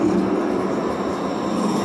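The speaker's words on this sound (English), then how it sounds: "Here comes our train." A train pulls into a station, a loud, continuous rumbling roar that holds steady throughout, with no one talking over it.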